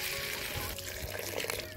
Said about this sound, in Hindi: अभी हम यहाँ पर पानी डालेंगे